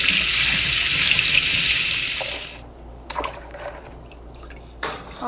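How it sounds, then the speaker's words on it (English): Rice and water are poured out of a basin in a steady, loud rushing splash that cuts off midway, followed by scattered drips and light clatter. "I'm just pouring my rice and I'm making sure I get everything out of the basin"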